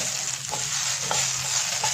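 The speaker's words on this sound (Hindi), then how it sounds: "This is the classical sound of tadka" Hot tadka tempering is poured into dal and makes a loud, steady sizzling hiss, a dense crackling wash with a few soft bubbling pops, close and with no voices.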